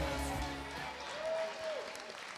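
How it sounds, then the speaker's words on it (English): Wedding guests applauding at a reception during the speeches: soft, continuous clapping at a low level that holds steady, with a brief sustained tone running through the middle. "Ladies and gentlemen, a round of applause for Tim and Chloe."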